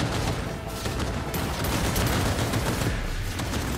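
Dense, sustained automatic gunfire from a Cyberpunk 2077 Phantom Liberty firefight, loud and continuous bursts layered over one another with no pause, close and chaotic.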